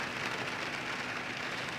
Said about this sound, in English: It is just pouring here today.